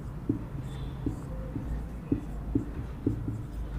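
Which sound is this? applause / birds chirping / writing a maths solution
writing a maths solution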